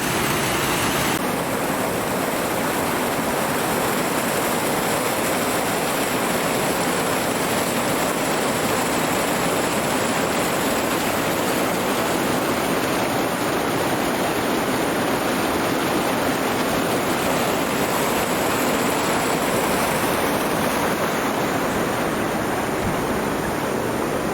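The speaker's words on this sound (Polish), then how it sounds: "Ja uwielbiam słuchać wodę, słuchać szum" Steady, loud roar of a waterfall, a dense broadband rush of falling water that continues unbroken for the whole stretch.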